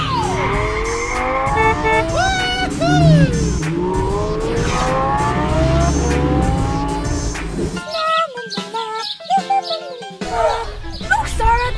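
A red Lamborghini roars past with sharp tire squeals and rising, swooping engine notes, loud and busy, while voices talk over parts of it.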